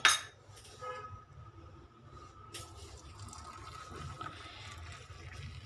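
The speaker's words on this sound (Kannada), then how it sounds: "ಸಕ್ಕರೆ ಪುಡಿ ಹಾಕ್ಬಿಟ್ಟು ಅದ್ರ ಮೇಲೆ ಬಿಸಿನೀರು ಹಾಕಿ" Hot water poured over coffee powder and sugar to make coffee decoction, a steady, soft liquid pour running after a sharp clink at the start, close and continuous.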